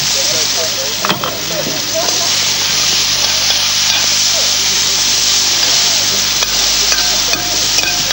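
Ginger, garlic and cardamom seeds sizzle loudly in a pan, a continuous close frying hiss broken by occasional clicks and scrapes from stirring.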